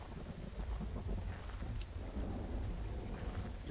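Rain and low thunder in the Phasmophobia horror game, a continuous dense wash of rainfall with deep rumbling underneath, steady and fairly loud throughout.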